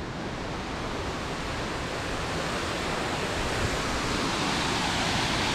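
A hidden waterfall deep in a forest gives a steady, dense roar of falling water that stays even and unbroken throughout, with no voices over it.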